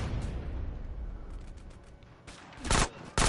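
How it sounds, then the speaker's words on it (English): Video game gunfire in GTA San Andreas: a low, rumbling burst of shots followed by sharper, louder bangs near the end, with no talking over it. "So now I'm gonna have to shoot him."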